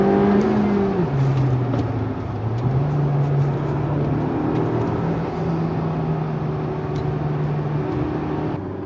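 A 2015 Honda Civic Type R's turbocharged engine revs out under acceleration, a loud continuous drone whose pitch climbs, dips at a shift, then climbs and holds steadily, heard close from inside the car with no talking.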